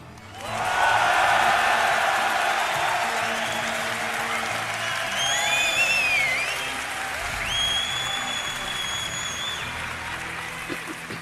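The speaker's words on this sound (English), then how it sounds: "Wow, this crowd, Tasteless." Esports crowd at a StarCraft II grand final at DreamHack Winter 2011 bursting into loud sustained applause and cheering, with a host talking over it and some whistles rising from the roar.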